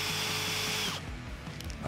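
A Bosch GSB 18V-50 cordless industrial drill whirs at high speed for about a second, then stops abruptly, leaving faint mechanical clicks and handling knocks.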